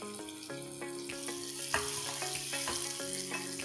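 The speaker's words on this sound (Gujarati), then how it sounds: "ટામેટાને તેલની અંદર થોડી વાર કૂક કરવાનું કે જ્યાં સુધી એનું પાણી જે છે એ બળી ના જાય" Tomatoes sizzling in hot oil in a pan while cooking sev usal, a steady quiet fry with light stirring clinks and no voices.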